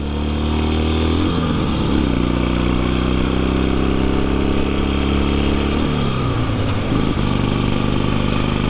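A 1973 Harley Davidson Sportster motorcycle at full throttle, loud and close, its engine note climbing through revs, dropping back, then surging again with a raw, rumbling roar.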